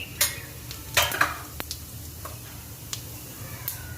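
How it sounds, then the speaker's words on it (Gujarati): Quiet, steady sizzling of half a spoon of cumin seeds frying in oil for chhole, broken by a few sharp clinks and scrapes of a spoon against the pan. "અને હવે આપણે અડધી ચમચી જીરું નાખી દઈશું"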